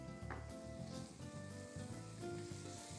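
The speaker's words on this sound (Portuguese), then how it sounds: "Dou uma refogadinha nele." Onion and garlic sauté in a pan while tomato-based polpettone is prepared, a steady close sizzle with faint stirring scrapes running throughout, no voices.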